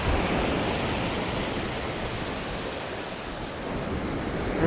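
Ocean waves crash close by and throw up spray, a loud, steady roar of surf and churning water with wind, no voices.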